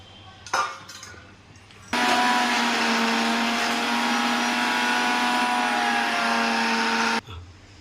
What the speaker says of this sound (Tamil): இதை இப்போ மிக்ஸி அதை போட்டு அடைச்சிடலாம்.